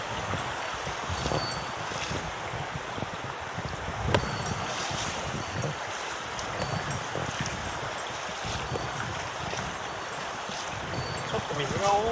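Open mountain river in the Akita forests, running high with water, makes a steady broadband rush and splash that stays even and continuous throughout, close by, with a brief louder knock near the middle.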